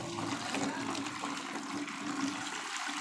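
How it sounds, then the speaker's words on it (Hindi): Water pouring and splashing into detergent (surf) washing powder being mixed at a detergent powder factory in Vehari, Pakistan, a steady rushing gush alone with no talk. "हाँ, पानी डाल दो, इसको डाल दो सर्फ को"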